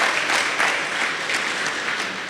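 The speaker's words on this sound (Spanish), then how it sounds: "Recibámoslos con un fuerte aplauso." A church congregation applauds steadily, with dense continuous clapping at a fairly loud level throughout.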